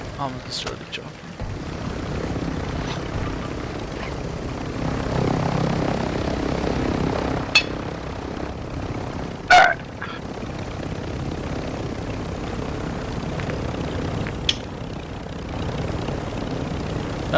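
Helicopter flying in a video game, a steady low rotor drone throughout with a few sharp clicks and a loud impact midway.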